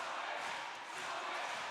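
Roller derby crowd at a world cup bout in Barcelona roaring in a cheer-off, a dense, steady wash of massed cheering and yelling echoing in an enclosed glass-walled hall.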